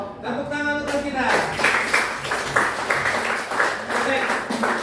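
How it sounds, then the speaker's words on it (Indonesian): Students in a classroom break into steady applause after a brief spoken line. Their clapping is moderately loud and continues in rough, repeated bursts. "Tepuk tangan untuk kita."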